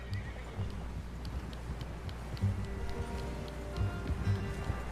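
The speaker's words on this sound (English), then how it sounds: "How's that new horse?" A horse in the video game Red Dead Redemption 2 snorts and whinnies while hooves clop in a steady rhythm, with a faint electronic hum underneath.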